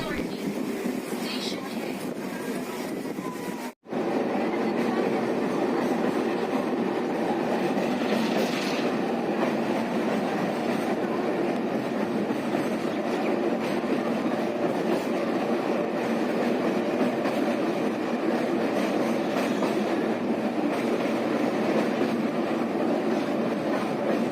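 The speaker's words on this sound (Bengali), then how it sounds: "ট্রেন তেতাল্লিশ কিলোমিটার জার্নির পর দেওয়ালটি স্টেশনে প্রবেশ করছে" A local train from Santragachi to Digha rumbles steadily along the rails at about 92 km/h, a dense continuous roar with faint rhythmic clatter, close and loud throughout, briefly cutting out for an instant early on.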